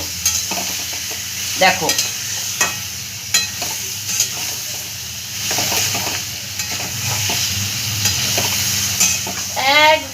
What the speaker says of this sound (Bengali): মশলার সাথে সব একবারে চিকেনগুলোকে ওলট পালট করে একদম কষিয়ে বসিয়ে নেবো একদম।